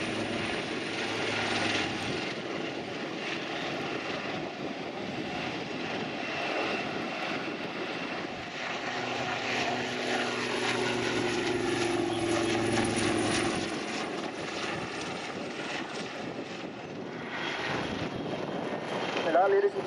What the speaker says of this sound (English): that is the closest the helicopters come as part of the display